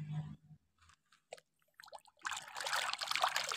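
Clean water poured to wash toy cars, starting with a few soft drips and splashes, then a steady close trickle and splash that runs to the end.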